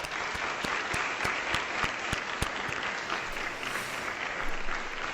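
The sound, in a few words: audience applauding at ballet graduation exam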